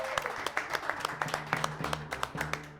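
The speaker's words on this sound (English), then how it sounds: "Another round of applause." An audience clapping for spelling champions on a children's educational show, a small group of sparse, uneven handclaps in a quick irregular rhythm, fairly faint with a low hum underneath.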